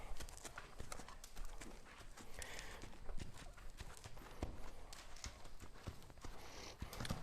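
Horse hooves clip-clop steadily at walking pace during halter breaking of a large horse, close by, with the occasional faint snort and rustle over a mild outdoor background.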